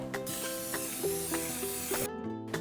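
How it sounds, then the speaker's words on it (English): A steady hiss of canola oil cooking spray onto a baking dish runs for about two seconds, then cuts off abruptly, with faint tonal hum underneath. "Now we need to spray the dish with some canola oil."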